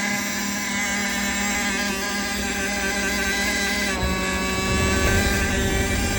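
A Ford inboard engine on an 18-foot sailboat, recently hydrolocked, runs with a steady, droning mechanical hum that stays loud and even throughout, with no voices over it.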